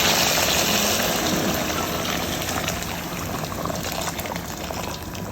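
Hot water poured from a height into a pot of braised meat for homemade haleem, a continuous close rushing splash that gradually softens toward a trickle, with no talk.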